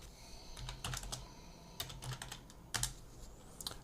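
Typing on a computer keyboard in a quiet room while setting up a Houdini network: scattered, close key clicks in short irregular bursts with small pauses between them.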